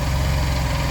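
A Honda SilverWing 600 scooter engine idles steadily with its variator spinning, giving a loud, even low throb with a constant fast pulse and no talking.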